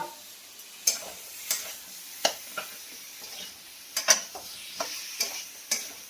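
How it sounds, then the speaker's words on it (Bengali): Potatoes and masala are stirred and fried in a pan, a soft sizzle running under sharp, irregular scrapes and clinks of a spoon against the pan, close and without talk. "এবারে আমি ভালো করে এবারে আলু দিয়ে মশলাগুলো দিয়ে ভালো করে কষে নিই।"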